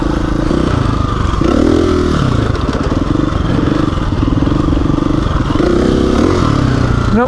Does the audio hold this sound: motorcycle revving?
yes